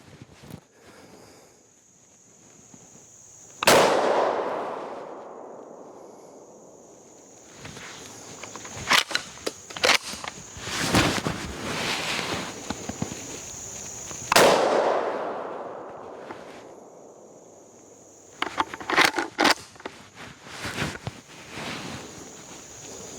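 Outdoors, a Winchester SXP Marine Defender pump shotgun loaded with number 9 shot fires two loud, sharp blasts about ten seconds apart, each rolling away in a fading echo, with metallic clicks and clacks of the pump action between them.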